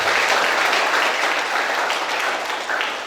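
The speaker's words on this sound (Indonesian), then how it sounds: "Tepuk tangan dulu." Steady, continuous applause from a graduation ceremony audience at a college in Samarinda, dense and even throughout, fading slightly at the very end.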